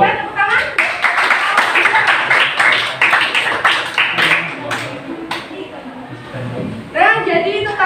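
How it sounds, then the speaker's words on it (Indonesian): Scattered clapping from a classroom of students after a group presentation during a teaching practice session, a few seconds of uneven hand claps that thin out before a voice begins speaking. "tepuk tangan"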